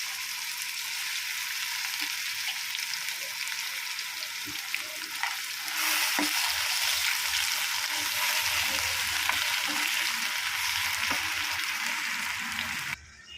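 Blended coriander paste hits a hot pan of fried curry leaves for coriander chutney, giving a loud, steady sizzle with scattered stirring clicks that swells midway before cutting off near the end.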